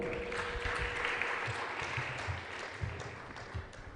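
A crowd claps steadily at a school quiz competition, a dense wash of applause holding at an even level for several seconds without talking.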